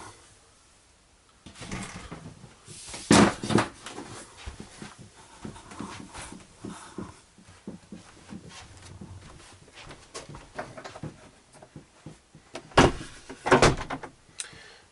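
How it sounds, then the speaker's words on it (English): A Perspex door slides across inside a 2011 Elddis Sirocco caravan, a few light rattling knocks and scraping bumps in a quiet interior, with louder thuds as it moves and stops. "this door, whoops, Perspex door just comes across like so"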